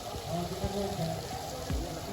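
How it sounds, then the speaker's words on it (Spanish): Clean water gushes out of a pipe beside a road under repair in Rincón de Piedra, Sajoma, making a steady pouring, splashing rush with someone talking over it. "Y miren el agua botándose aquí."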